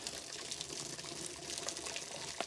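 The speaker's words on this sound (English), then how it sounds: "All right, so I'm ready to put the hot water in. This is about 2 litres of hot water." About two litres of hot water pours over a can of beer extract for homebrewing, making a continuous close splashing gush that runs the whole time with no talk over it.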